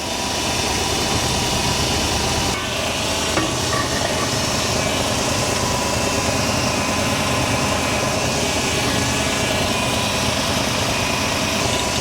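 A 1966 Ford Thunderbird engine idles close by, a loud, steady, dense drone that holds throughout with a brief dip early on and no voices.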